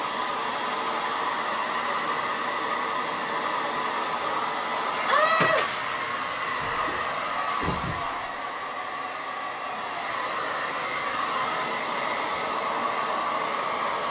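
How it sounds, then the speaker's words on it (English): A blow dryer runs continuously in a steady loud whooshing hiss throughout, drying small craft flower pieces, with a couple of brief knocks and a faint squeak partway through. "the blow dryer will have them flying everywhere"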